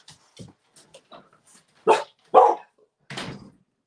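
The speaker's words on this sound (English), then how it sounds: "My dog barking too." A pet dog barks nearby indoors: a few soft yips first, then three loud, sharp barks spaced about half a second apart, the last one slightly rougher.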